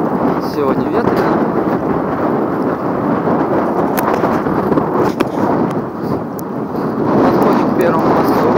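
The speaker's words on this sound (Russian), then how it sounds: "Сегодня ветрено." Steady wind gusts buffet the microphone beside a city lake in Gus-Khrustalny, a loud, constant rumbling roar with a few faint clicks and knocks over it.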